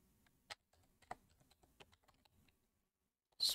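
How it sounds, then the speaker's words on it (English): Keys clatter on a computer keyboard in short irregular bursts, fairly quiet and close, then a brief louder click or clack at the end. "Having trouble typing."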